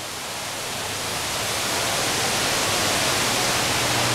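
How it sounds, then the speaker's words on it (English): Waterfall in a cloud forest, a steady broad rushing roar that swells slightly louder and stays constant throughout, with no voices over it. "Cloud forest, you can see the waterfall coming from top."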